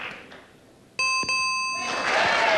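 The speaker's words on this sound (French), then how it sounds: "Est-ce qu'on a 2 sons de cloche?" Electronic chime tones ring out on a French game show, two sharp bell notes struck about a quarter second apart that sustain into a bright ringing tail, followed by a swell of applause or studio noise.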